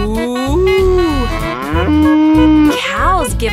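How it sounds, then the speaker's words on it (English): A cow moos loudly and close in a children's nursery rhyme song, several drawn-out lowing calls in a row, sounding alone without talk. "This is the cow. She goes moo."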